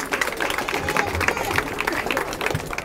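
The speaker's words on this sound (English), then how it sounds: "we want to give a rousing round of applause" A crowd applauds athletes at a homecoming welcome, with dense, steady clapping that holds for a few seconds and is mixed with crowd noise.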